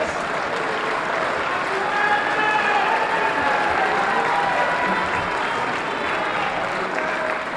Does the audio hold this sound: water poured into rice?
no